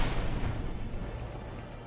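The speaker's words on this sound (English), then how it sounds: "look, shots." Gunfire in the video game Mass Effect 2 makes a dense, low, booming rumble of shots that stays loud and fairly close for the whole short stretch, with no voices.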